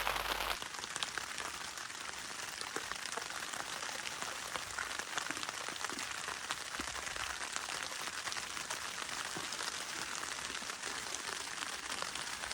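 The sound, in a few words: rain falling on tent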